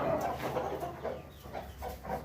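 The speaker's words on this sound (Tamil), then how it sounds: "கருங்கோழி, மொட்டைக்கோழி, சண்டைக்கோழி, சேவல், மொட்டைமுனி, வெள்ளைக்கோழி" Chickens and a rooster, including black, crested and fighting breeds, clucking close by in a steady series of short repeated calls over a low background murmur.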